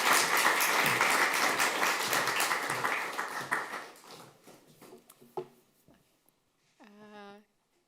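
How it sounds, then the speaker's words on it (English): Audience applause at a talk on Ukrainian refugees in the Netherlands, a loud burst of clapping that fades over several seconds into a few scattered claps, followed by a brief voice at the end. "May I have a very warm applause"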